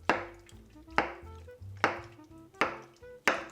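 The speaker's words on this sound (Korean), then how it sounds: "청양고추 쫑쫑쫑 썰고 마늘은 다져." A knife chops Cheongyang chili peppers and garlic on a cutting board, with five sharp, evenly spaced strikes in a steady rhythm. The sound is close and fairly quiet, and no one speaks.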